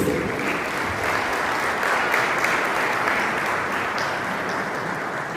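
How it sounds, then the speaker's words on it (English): Steady, dense audience applause fills a hall at the 4th Pakistan Remittance Summit in Rome, a continuous wash of many hands clapping at close range without any voices. "So clearly you have a great support system, because I can see the clapping over here."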